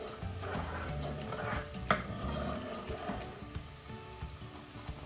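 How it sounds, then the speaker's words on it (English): Sugar syrup being stirred in a pot for Mysore pak, a quiet scraping and swirling of a spoon against the pan with soft bubbling, one brief sharper clink near the middle, no talking. "now I'm going to give my sugar syrup a stir"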